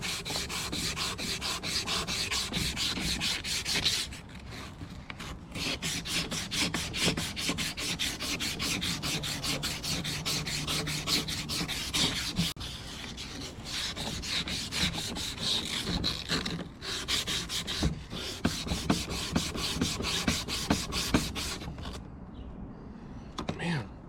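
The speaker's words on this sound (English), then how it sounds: "Get some of the rust off." Sandpaper scrubbing rust off a metal Gorilla Cart wheel, a steady rasping rub repeated in fast, close strokes for the whole stretch, with brief pauses and a little talk underneath.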